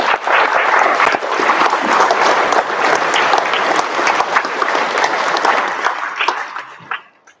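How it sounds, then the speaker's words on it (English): An audience at a school awards night giving a big round of applause for the coaches, loud dense clapping that carries on for several seconds before quickly fading out at the end. "I think they deserve a big round of applause."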